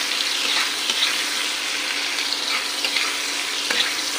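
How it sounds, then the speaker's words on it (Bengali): Meat cooking with ginger-garlic paste and chilli sizzles and fries steadily in a pan while being stirred, a continuous loud crackle with light scraping throughout. "দেখো মাংসটা কষাচ্ছি, আদা রসুনের পেস্ট লঙ্কা দিয়ে দিয়েছি, এবার আমি এটা কষাচ্ছি"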